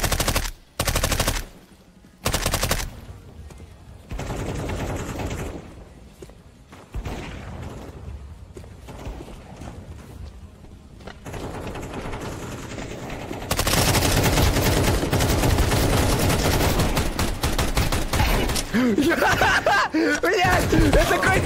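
Automatic weapon fire in the video game Counter-Strike 2 during a stream, rapid bursts and sustained sprays of shots over a steady game background, with people talking and laughing throughout.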